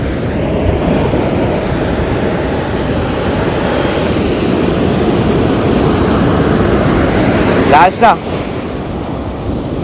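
Sea waves breaking on a beach make a steady, loud, broad roar mixed with wind buffeting the microphone, and a voice speaks briefly near the end.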